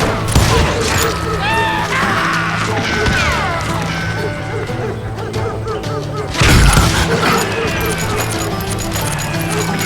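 A dense Wild West gun battle in Call of Juarez: Gunslinger, with continuous overlapping gunshots, crashes and impacts and a heavier burst near the end, all under shouted voices.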